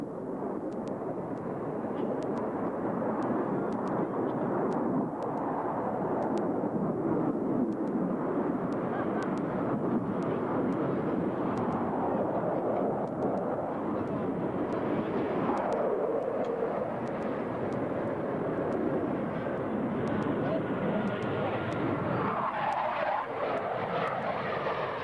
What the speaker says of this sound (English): Each pilot will now accelerate his aircraft to 500 miles per hour and execute an individual reversal